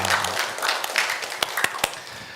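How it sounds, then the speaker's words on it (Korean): A church congregation gives a short round of applause, with a few scattered claps standing out as it fades, and voices murmur underneath. "하나님께 영광의 박수 올려드리겠습니다"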